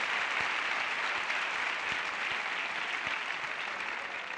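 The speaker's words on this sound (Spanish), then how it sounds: "un aplauso para Eva por los consejos" An audience claps in warm applause at a Spanish talk show, a dense even patter of many hands that holds steady, then eases slightly near the end.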